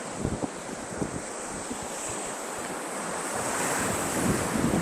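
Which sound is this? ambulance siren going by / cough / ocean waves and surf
ocean waves and surf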